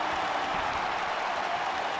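Crowd cheering and applauding in an AEW wrestling video game, a steady dense roar of claps and cheers filling the arena without a break.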